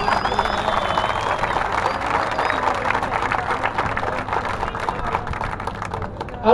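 Audience applause at a campaign event for a Tijuana mayoral candidate: dense, steady clapping from many hands that fills the whole stretch at an even level, rising briefly right at the end.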